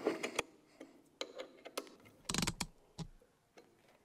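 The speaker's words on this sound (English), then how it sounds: "tightening up the central bolt with a 10 millimeter hex key" A 10 millimeter hex key tightens the central bolt of a shipping container framing bracket, giving a series of sparse metallic clicks and ratcheting scrapes, quiet and close, with a short denser rattle in the middle.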